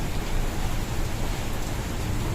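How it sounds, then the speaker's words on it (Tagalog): Light rain drizzles outside on a rainy morning, a soft, steady wash of fine drops with no distinct patters, moderately close and even throughout, with no talking. "Kanina ay malakas ang ulan. Ngayon umaambon-ambon na lang."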